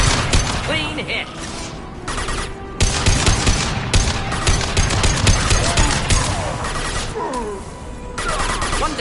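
Rapid gunfire and bursts of exploding crates during a firefight in Mass Effect 2, loud and dense with overlapping shots and blasts. A voice speaks over much of the shooting.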